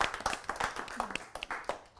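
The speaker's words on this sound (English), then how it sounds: "I think we should round of applause for the beautiful turtle tower." A small group claps for a tower built from Lego bricks during an ice-breaker session, the claps quick, uneven and fairly close, with faint voices underneath.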